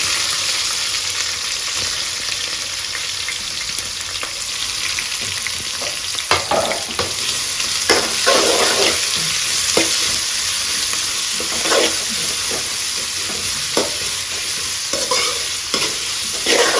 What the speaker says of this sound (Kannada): ಸೊ ಇದು ಚೆನ್ನಾಗಿ ಫ್ರೈ ಆಗಬೇಕು.